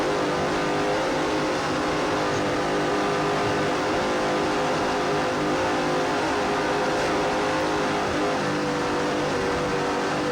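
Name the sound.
racing powerboat engines roaring, onboard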